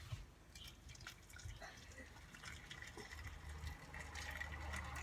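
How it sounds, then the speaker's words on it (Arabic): Hot water is poured into a cooking pot of tomato sauce for stuffed aubergines with minced meat. It makes a soft, close trickling and dripping that settles into a low steady fill toward the end. "ونديرو لهم شويه ما سخون"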